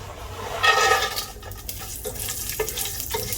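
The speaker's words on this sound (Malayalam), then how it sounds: "നെയ്യ് ഒന്ന് ചൂടായിട്ട് വരുമ്പോൾ അതിലേക്ക് അണ്ടിപ്പരിപ്പ്, കിസ്മിസ്, ബേ ലീവ്സ്, പിന്നെ ഏലക്കായ, പട്ട, ഗ്രാമ്പൂ ഇതൊക്കെ കൂടി ഇട്ട് കൊടുക്കാം" Cashews, raisins, bay leaves, cardamom, cinnamon and cloves hit hot ghee for a green chicken biryani, giving a loud opening sizzle that settles into a steady crackling fry with a few stirring scrapes.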